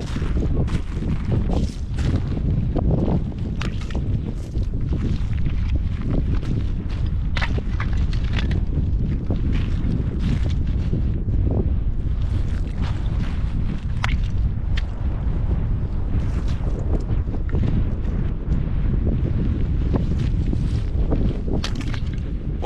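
Strong wind blowing steadily across a desert island camp, a constant rough rumble with buffeting gusts against the microphone throughout.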